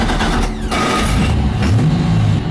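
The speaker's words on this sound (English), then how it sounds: "she stumbles on startup" The LS1 V8 swapped into a Nissan 180sx cranks and catches on startup, running rough and uneven for a couple of seconds, loud and close.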